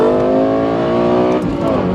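Lexus LFA engine revving hard, a loud, close, high-pitched howl whose rising harmonics sweep up then dip, sustained for under two seconds with no talk.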